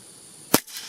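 A single sharp crack from a 9mm pistol firing subsonic rounds through a Griffin Armament Optimus silencer, close and brief, with a short decay after the shot.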